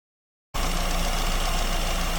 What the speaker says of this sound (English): So engine's idling, you can see the fluctuations at idle.